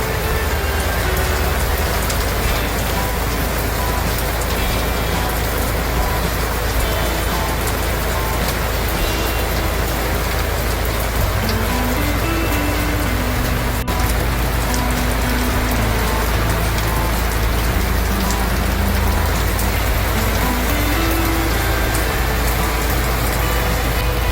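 Steady heavy monsoon rain drums on the roof of a Hyundai Staria van, a dense constant patter with a low engine-like rumble underneath and no pauses.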